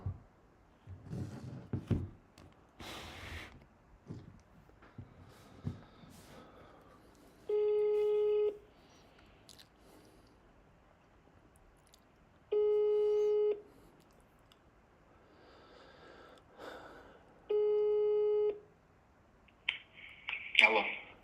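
A telephone ringback tone sounds three times at even intervals, each burst about a second long, between soft rustling and handling noises.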